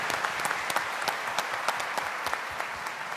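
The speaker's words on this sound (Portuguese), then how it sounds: "eu vou pedir uma salva de palmas para todos do som e da luz que estão trabalhando com a gente hoje." Steady, dense applause from an audience at a 2019 peace gathering in São Paulo, honoring the sound and lighting crew; a continuous wash of many hands with a few sharper claps standing out and no voices.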